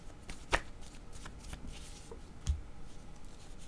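Tarot cards are shuffled and drawn close up as a continuous soft riffling, broken by two sharper snaps of a card, with no talking.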